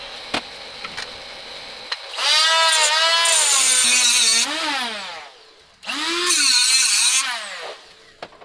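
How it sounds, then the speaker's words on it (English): Power tool cutting off an axle stub on a Mini Model S chassis: two loud bursts of harmonic whine rising and falling in pitch, each lasting a couple of seconds, separated by a brief pause, with light clicks before and after. "So the next thing is I will cut off the axle stub there"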